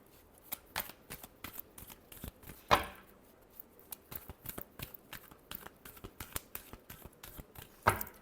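A deck of tarot cards is shuffled by hand in quick, irregular riffles and taps. Two sharper snaps stand out, and the shuffling is quiet, close and unaccompanied by talk.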